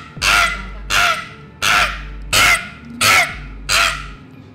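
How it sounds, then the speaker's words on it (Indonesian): A crow caws six times in a steady rhythm, loud and close, each call harsh and evenly spaced with short pauses between. "Ini suara burung."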